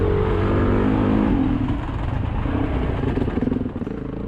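A BMW dirt bike's engine drones loud and steady through a long right-hand hairpin in the woods, the note dipping slightly midway then pulsing and revving on.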